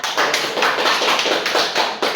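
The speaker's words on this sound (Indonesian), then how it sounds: "Kalau tidak ada, kita beri tepuk tangan." A classroom of middle-school students claps hands together in a steady, fairly loud burst of many overlapping claps. The clapping continues for a couple of seconds with no talking.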